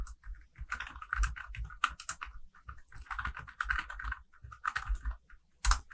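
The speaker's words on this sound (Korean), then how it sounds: "Alt 누른 상태에서 엔터 치시면 돼요." Computer keyboard keys are pressed while entering data in an Excel spreadsheet, including Alt and Enter combinations, in irregular clusters of close, crisp clicks and taps with short pauses between bursts.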